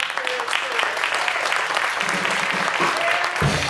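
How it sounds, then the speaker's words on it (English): An audience claps for military veterans at a day camp concert, steady dense applause filling the room, with some voices mixed in under it. "let's give them a round of applause for their"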